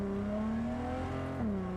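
A car engine in Cyberpunk 2077 drones at a steady hum, holding a constant pitch, then drops in pitch near the end as it slows.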